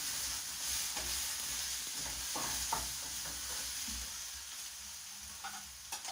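Garlic sizzles and fries in a pan while being stirred, a steady hiss with scraping and clinking of a utensil against the pan throughout, close and moderately loud, no voices.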